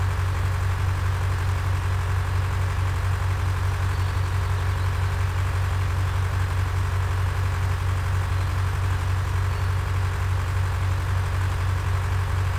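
A tractor engine in a farming video game drones steadily while hauling a large trailer, a constant low hum with a broad even hiss and no variation, heard alone.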